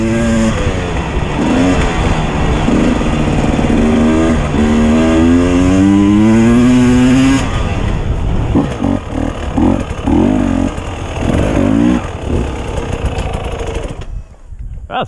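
A dirt bike engine on a hard enduro ride revs loud and close, climbing and falling in pitch through repeated throttle bursts before it cuts off abruptly at the end.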